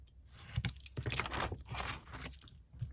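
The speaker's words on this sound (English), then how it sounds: "take out my knife, and just, you know, cut this piece off." A knife cuts a piece off a paper file folder in short, faint scraping and slicing strokes, crinkling softly over a few seconds.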